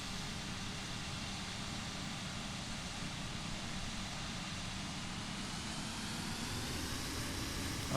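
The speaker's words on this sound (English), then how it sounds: "there's the auto throttle kicking in" Simulated Airbus A320neo LEAP engines in Microsoft Flight Simulator hold a steady broadband roar with a low rumble, faint and continuous, rising slightly toward the end as auto throttle engages.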